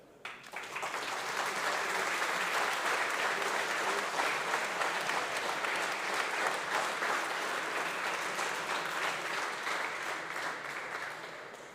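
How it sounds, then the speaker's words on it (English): A large audience at a student racing team's car rollout event breaks into sustained applause that holds steady and full throughout, with a dense, even texture of many hands clapping. "Let's give a big applause to them."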